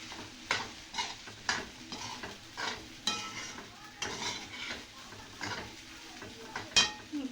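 Sabudana khichdi with peanuts sautéed in a pan: rhythmic scraping strokes of a spatula stirring through the grains, repeated about every half second over a soft sizzle, close and clear.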